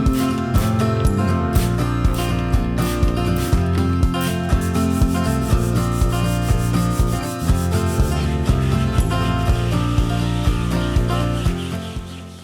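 Steady rhythmic rubbing of sandpaper on a wooden canister, repeated strokes close and loud over a continuous musical bed, with no talking.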